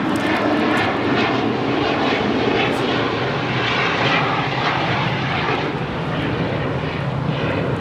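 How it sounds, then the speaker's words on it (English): A Bombardier Global 7500 business jet roars on departure from Los Angeles International Airport, a loud, continuous engine rumble and hiss that stays strong from start to finish. "This Global 7500 is departing to Paris"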